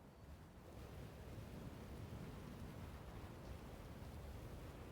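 Stormy highland wind effect with snow falling heavier, a steady, loud broadband roar with a low rumbling gust layer that swells slightly after the first half-second and holds constant, alone without voices.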